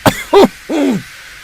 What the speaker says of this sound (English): Henry coughed feebly.